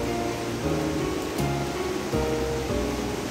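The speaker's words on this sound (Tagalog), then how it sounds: "Ayun pa rin yung malakas na tubig" Strong mountain water rushing steadily, a close, continuous broadband roar like surf or a torrent, alone without voices.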